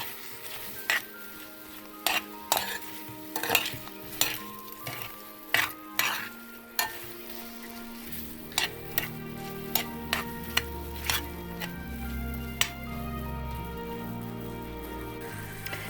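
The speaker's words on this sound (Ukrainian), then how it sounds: "Тепер це все перемішуємо." Apple dessert mixture with lemon, cinnamon and vanilla is stirred in a frying pan, repeated sharp spoon knocks against the pan over a soft sizzle that grows louder toward the end, close by with no talking.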